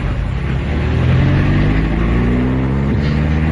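A car pulls away and drives along in a radio drama, its engine rising in pitch as it accelerates and then holding a steady, fairly loud drone, with no voices over it.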